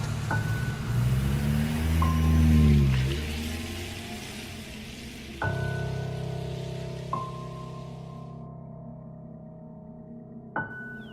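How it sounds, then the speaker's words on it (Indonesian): A shuttle car carrying campers and their gear drives toward a hillside campsite in Lembang, its engine rumbling and whooshing steadily for several seconds, with a few sharp knocks and clicks as the cabin rattles. "menggunakan mobil jemputan saat itu"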